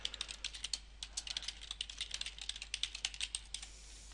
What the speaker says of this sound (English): Now type in your email address.